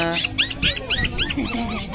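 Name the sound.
pedigree dog growling at a pet market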